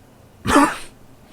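A single short, throaty cough, close and fairly loud, with quiet room tone before and after.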